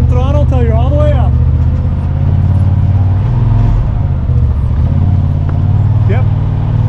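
Off-road vehicle engine holding a steady, smooth throttle while climbing a trail obstacle, a loud continuous low rumble with speech over it at the start.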